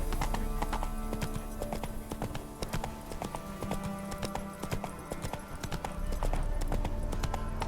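Roach, a horse in The Witcher 3 video game, gallops in a steady run of clip-clopping hoofbeats, close and continuous, with dense rhythmic thuds over a low rumbling bed.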